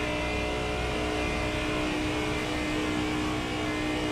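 A Kia Optima engine holds a loud, steady high rev, droning continuously without breaks and without any voices.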